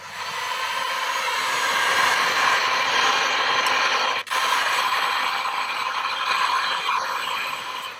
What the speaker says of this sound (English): So I'm going to heat shrink this sort of, so it roughly looks like that. I've got a heat gun.